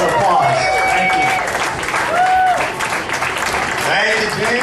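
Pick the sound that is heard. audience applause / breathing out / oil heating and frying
audience applause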